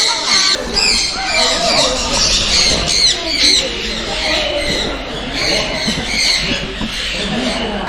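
Birds squawking and calling at Peeku Park in Yercaud, a bird park, with a dense, continuous chorus of chirps and squawks through the whole stretch, fairly loud and close, mixed with background voices.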